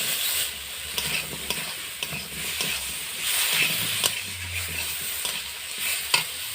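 Spiced masala sizzles steadily in a pan as cut potatoes go in, with scraping stirring strokes and small clicks of a spoon against the pan, close and moderately loud throughout.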